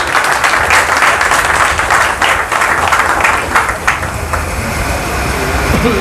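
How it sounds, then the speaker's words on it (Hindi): Crowd at a political rally applauds to welcome a candidate, dense sustained clapping that fades slightly toward the end, loud and close. "मैं आपसे अनुरोध करता हूं एक बार उनका तालियों से स्वागत कर दें दोस्तों।"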